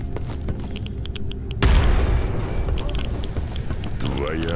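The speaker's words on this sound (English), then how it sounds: "He grenaded himself." A grenade goes off in S.T.A.L.K.E.R. Anomaly, a sudden loud, deep boom that cuts in after a quieter stretch and rumbles on with debris-like crackle; a voice is heard faintly beneath it.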